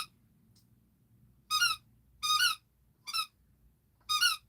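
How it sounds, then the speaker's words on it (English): A dog squeaks in four short, high-pitched bursts spaced about a second apart, fairly close and loud over a quiet indoor background. "That's my dog squeaking."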